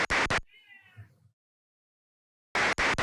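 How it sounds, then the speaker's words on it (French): A cat gives one short, clear meow, close and fairly loud, set between bursts of someone talking before and after. "Il a fini de miauler."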